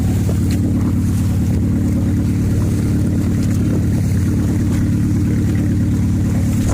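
A fishing boat engine at sea drones loud and steady throughout, with wind and water noise around it and no voices.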